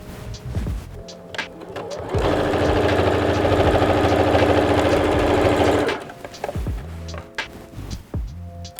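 Sewing machine topstitching a fabric pocket bag on dungarees, a steady close motor whir running for about four seconds, loud and even, framed by quieter handling noises before and after.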